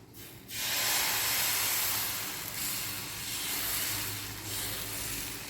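Ragi dosa batter hits a hot pan and sizzles in a steady, close, broad hiss that starts after a brief quiet moment and holds with slight swells, with no talking.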